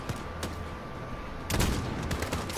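Loud, close gunfire from Call of Duty: Modern Warfare pounds out in a rapid volley of shots, with a heavier burst halfway through.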